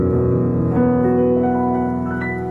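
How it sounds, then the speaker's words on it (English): A piano chord rolled upward from the low bass notes, each note entering in quick succession and then ringing together in a sustained wash. "all I had to do was begin at the low end of my piano and roll through"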